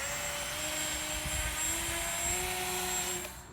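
A radio-controlled model plane flies low and slow overhead, giving a steady buzzing drone whose pitch drifts gently as it passes, then fades slightly at the end, with no talk.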